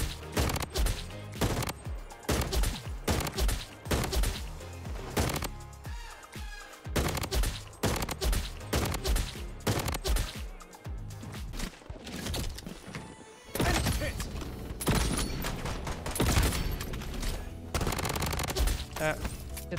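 Rapid automatic fire from an AR97 rifle at a shooting range in the game Bloodstrike, loud repeated bursts of shots with short pauses between volleys, continuing for most of the stretch with game ambience underneath.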